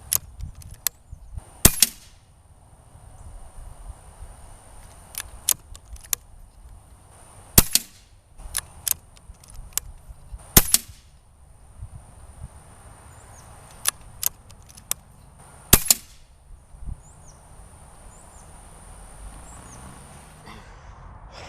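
Shots from a .22 caliber PCP air rifle fired through a chronograph: several sharp, loud cracks spaced a few seconds apart, with small clicks and handling noise between them over quiet background hiss.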